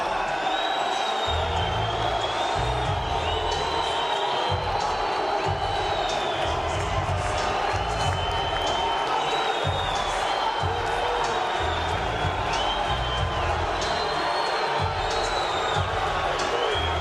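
A boxing arena crowd roars and cheers continuously and loudly as a fighter enters the ring, with whoops and a commentator talking over the noise.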